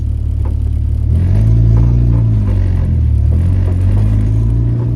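A boosted Honda Civic EK hatchback accelerates hard, its engine note rising and holding a strong rumbling drone up close with clattering undertones, loud and alone without talk.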